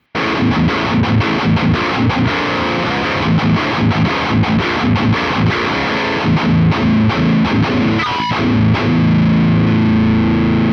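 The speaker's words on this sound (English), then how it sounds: "The pedal board is working perfectly, guys, and it is sounding really good." A guitar through a pedalboard with a Tempest Overdrive pedal plays loud, thick distorted chords and riffs in a steady rhythm, then rings out on a sustained chord near the end.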